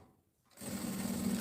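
A sewing machine stitching fabric starts up after a brief quiet moment and runs as a steady, fast mechanical whir with a low buzzing hum, fairly close and alone.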